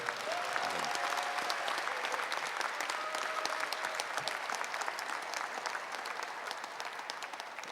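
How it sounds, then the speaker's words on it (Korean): A crowd applauds at the launch ceremony of a Korean political campaign committee, steady dense clapping from many hands that holds for several seconds and fades slightly toward the end. "우리 김혜경 대표님께 정말 고맙다는 말씀 여기 계신 동지론께서 박수로 한번 격려해 주시기 바랍니다."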